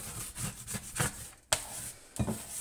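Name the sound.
dough scraper scraping pasta dough off the table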